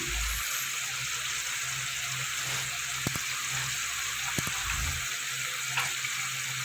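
Water poured into a spice paste cooking in a pan for a rui fish curry, making a loud, steady hissing sizzle that runs unbroken, with a few small pops and no talking.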